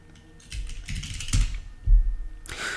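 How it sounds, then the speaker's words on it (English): An application name is typed on a computer keyboard in a Linux desktop launcher, giving a short run of quick, close key clicks and a few louder taps, with no talk. "You type the name of the applications you want to run and it shows up."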